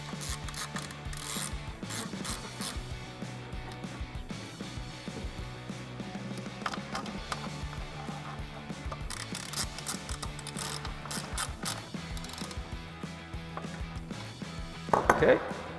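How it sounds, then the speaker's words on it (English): A ratchet with a 4 mm hex socket clicks steadily and continuously as bolts are tightened on a 2012-2018 Jeep Wrangler JK cold air intake, close and prominent with no talking. "Then we're going to take our 4 millimeter hex socket, and we can go ahead and tighten these down all the way"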